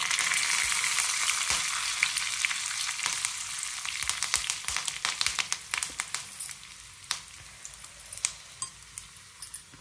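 Mustard seeds, cumin and curry leaves fry in hot oil with a dense, hissing sizzle that thins into sharp popping crackles, close and steady, with occasional stirring.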